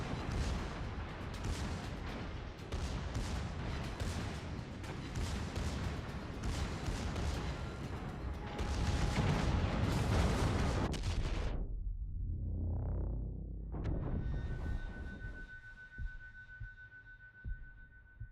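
Secondary guns of the battleship Mikasa in World of Warships fire rapid, heavy volleys that thud close and loud for several seconds. The barrage then gives way to quieter game ambience with a swelling whine.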